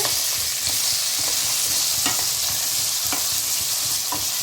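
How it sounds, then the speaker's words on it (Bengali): Cut potatoes frying with a little cinnamon in a pan, a loud, dense, continuous sizzle close up with faint periodic scrapes of stirring, steady throughout and free of speech. "আলুগুলো প্রায় ভাজা ভাজা হয়ে এসেছে"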